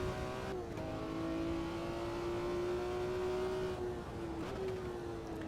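A BMW race car's engine holds a steady, loud drone in the AMS2 sim racing game at the Nürburgring, with slight pitch shifts as the revs rise and fall, and no voices over it.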